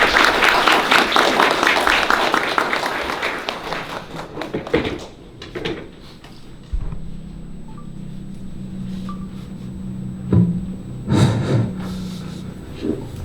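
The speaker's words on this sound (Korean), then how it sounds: "박수 부탁드립니다" An audience at a social workers' association election debate applauds to welcome the moderator, dense clapping for about four seconds that fades, followed by room noise, a few knocks and brief voices.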